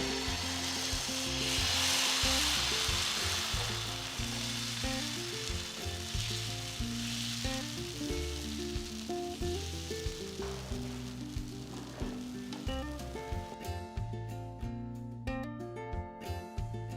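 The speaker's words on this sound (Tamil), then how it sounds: "தோசைக்கல் நல்லா சூடானதும் ஒரு கரண்டி மாவு எடுத்து ஊற்றி ஈவனாக தேங்க" Chickpea dosa batter sizzles on a hot griddle with a continuous crackling hiss over a steady background of rhythmic low tones, with no voices.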